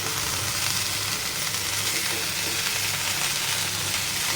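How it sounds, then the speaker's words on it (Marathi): Shepu and methi mixed vegetables stir-fry in a pan over high gas, giving a steady, loud, unbroken sizzle with scraping and stirring textures throughout. "आता इथे भाजी टाकून झाल्यावर गॅस असा फास्ट करायचा आणि भाजी फटाफट अशी हलवून घ्यायची."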